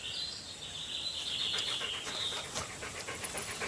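Dogs panting quickly and steadily close by, a continuous rhythmic huffing with no one talking over it.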